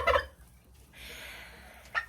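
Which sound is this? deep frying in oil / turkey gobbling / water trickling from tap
turkey gobbling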